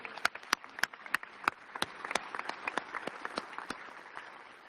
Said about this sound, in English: To outgoing Chair Nigerian, can we all give him another round of applause, please?